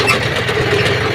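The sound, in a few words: John Deere 5310 tractor engine with cutter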